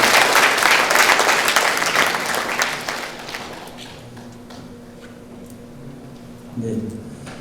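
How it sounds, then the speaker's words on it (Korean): Loud applause from a crowd of delegates at a Korean union delegates' orientation fills the first few seconds, then thins out and fades to scattered claps and room noise. "여러분 김섭 여러분의 동료에게 큰 박수 다시 한번 주십시오."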